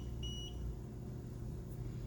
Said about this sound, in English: did you hear the beep?